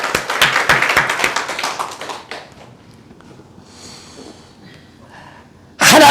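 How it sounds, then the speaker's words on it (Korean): A church congregation claps in a quick, steady rhythm of sharp claps for about two seconds, then the claps thin out into quieter room murmur before a louder burst at the very end. "박수."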